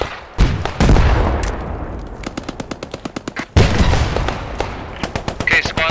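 Dense World War 2 gunfire from the game Post Scriptum: bursts and rapid volleys of rifle and machine-gun shots crack loudly over about six seconds, with a heavy blast-like onset midway and fainter voices under the shooting.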